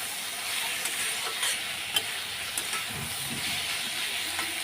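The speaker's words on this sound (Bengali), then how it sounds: "এখন নাড়া দিয়ে দেবো।" A spoon stirs turmeric and cumin powder through hot oil in a pan for a spicy fish curry with taro stolons, a soft continuous sizzle with a few light scraping taps.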